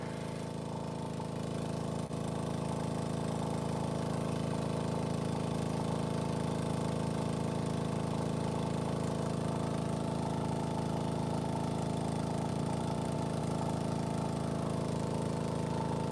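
A truck engine idles in a steady, unbroken low drone that stays at an even moderate level throughout, with no voices.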